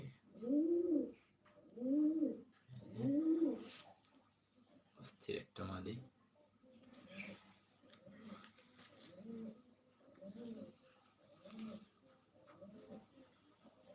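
Pigeons in a loft coo in a steady repeating rhythm, three strong close calls followed by softer repeated coos, with a brief clatter partway through.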